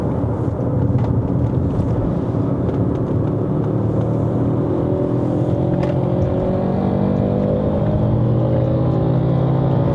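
Chery Tiggo Cross 1.5 HEV hybrid engine at half throttle on a hill climb to Genting in Malaysia: a steady, close droning rumble with slowly rising tones, continuous and without talk.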